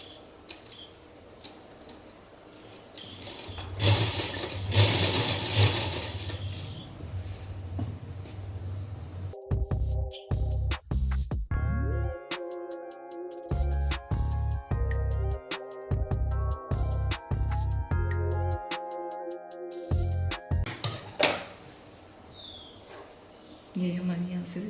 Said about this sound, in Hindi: अब इसको हम इसके ऊपर से एक पैर की सिलाई लगाएंगे।